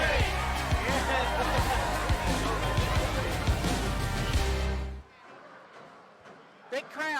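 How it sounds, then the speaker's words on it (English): A big, steady crowd roars and murmurs at a 14th Region high school boys' basketball game at the Mort Combs Athletic Complex, dense and loud for five seconds before cutting to near quiet with a brief voice. "Big crowd here at the Mort Combs Athletic Complex."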